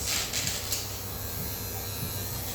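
Electric pet clippers fitted with a clip-on comb buzz continuously while grooming a Shih Tzu, a close, steady motorized hum with slight shifts in tone as the blades move through the coat.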